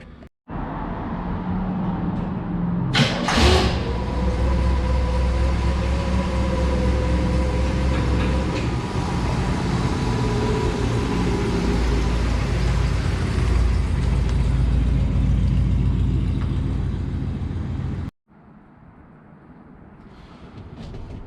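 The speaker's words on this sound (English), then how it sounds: "Fire up the car and I'll pull it outside." A 1965 Oldsmobile F85 Cutlass engine fires up with a sharp start and settles into a steady, loud idle and rumble as the car pulls out, running continuously for about eighteen seconds before cutting off, with no talking.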